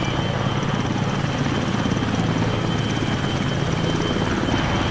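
A medevac helicopter in the video game ArmA 3 comes in to land, its rotor chopping in a loud continuous beat with a steady engine whine, close and unbroken throughout.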